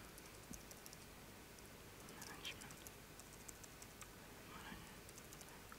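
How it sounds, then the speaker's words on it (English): Typing on a computer keyboard in quiet room noise: faint, scattered clicks and short runs of key taps. "can't type, but ignore the typing"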